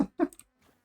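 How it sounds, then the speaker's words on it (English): Bees in the Last Epoch video game give a brief buzzing flurry, a couple of short, close, fairly loud bursts that quickly fade to near silence. "Oh, we have bees."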